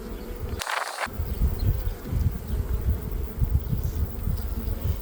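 A dense, steady buzzing drone comes from a crowd of honey bees on plastic hive frames, close and continuous for the whole stretch, with a short rustling burst near the start.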